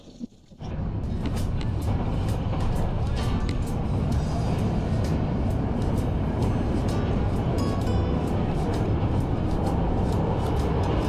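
Interior running noise of the Parjatak Express passenger train travelling from Dhaka toward Cox's Bazar, a steady loud rumble and rush with faint rhythmic ticks from the rails, constant throughout after a brief quieter start.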